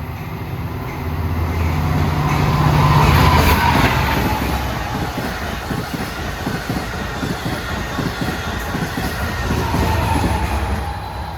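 LIRR dual-mode train 619 accelerating away from the Mineola stop at New Hyde Park during the morning rush, a rumbling engine swell with rhythmic wheel clatter over rail joints, moderately close and steady, with no voices.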